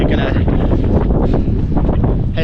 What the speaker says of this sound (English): Far too windy and far too cold in Reykjavik tonight,